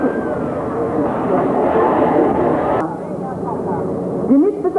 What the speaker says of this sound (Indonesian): Jenis pesawat inilah yang digunakan sebagai pesawat latih mula